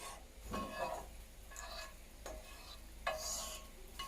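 Butter sizzling in a pan before banana pancakes go in, a soft continuous sizzle broken by several scraping strokes as a utensil spreads it around, close and without voices.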